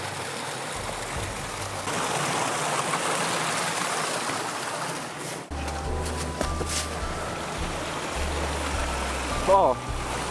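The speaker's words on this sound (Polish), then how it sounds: "Złowieszczy szum wodospadu po prostu zniknął w krzakach. Pojawił się znów nieopodal." A mountain waterfall rushing through a winter forest in the Izera Mountains, a steady broadband hiss of water heard at a distance, with a low rumble joining partway through and faint brief chirps near the end.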